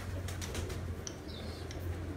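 Domestic pigeons of a bred fancy line cooing softly in a loft, a few low throaty coos over steady background noise, with faint brief chirps, no talking.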